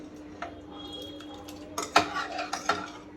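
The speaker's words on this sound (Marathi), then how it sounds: "मी याला पूर्ण रवीने हलवून याची डाळ आता बारीक करून घेते" A wooden churner mashes sambar dal in a pot, making soft scraping and irregular light knocks against the pot sides, growing louder toward the end.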